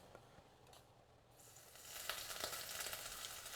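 Oil crackles faintly, then breaks into a bright, steady sizzle as garlic and ginger are dropped into the hot pan.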